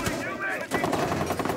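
Video game gunfire crackles in a rapid burst near the start, then returns in shorter pops, mixed with game noise and a voice speaking over it.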